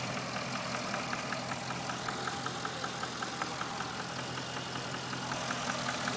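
Idling 6.4-liter Hemi V8 in a 2012 Chrysler 300 SRT8: an even, steady engine hum with a regular ticking pulse, heard close but at modest volume, no one talking.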